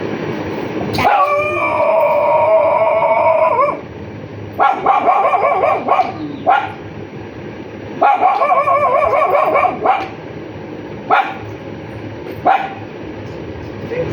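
A dog barks and howls in long drawn-out bursts with yips and short whimpers between them, loud and close, repeating over several seconds.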